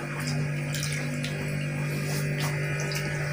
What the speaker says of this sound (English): I'll wash my pepper into it.